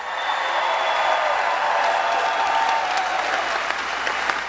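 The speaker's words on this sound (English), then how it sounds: "give him another round of applause for Chief Wiley of West Melbourne" A large rally crowd applauds the West Melbourne police chief, a loud, dense, continuous wash of clapping with scattered cheers, sustained without pause.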